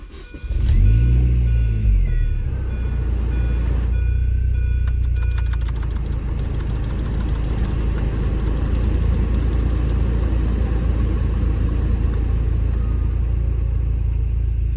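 A car's engine fires up with a loud rumbling surge, then settles into a steady, close running drone during a test drive of a car with a worn-out clutch.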